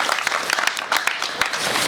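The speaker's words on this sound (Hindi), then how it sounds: "इस बात पे तालियां तो हो जाए एक बार जोर से" Brief, lively applause from an audience at a Hindi poetry recital, a dense burst of sharp claps with distinct individual hand strikes standing out, loud and close throughout.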